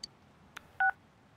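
A telephone number is dialed in the video game Persona 4 Golden: a couple of soft clicks, then a single short dual-tone beep, quiet and clean with nothing else over it.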